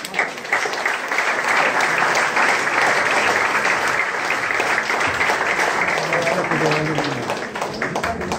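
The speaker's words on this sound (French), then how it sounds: "Croyez-moi, il mérite d'être applaudi un peu plus fort." Sustained, loud applause from an audience at a medal-awarding ceremony in Cannes honouring a volunteer, steady clapping filling the whole stretch with a brief swell near the start and voices faintly mixed in.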